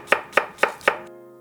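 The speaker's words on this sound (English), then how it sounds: "The skill of cutting onion is beautiful." A knife chops an onion on a cutting board in four crisp, evenly spaced strokes, close and clear, then the cutting stops and only a low hum remains.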